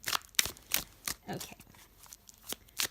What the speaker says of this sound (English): so let's give this a bit of a shuffle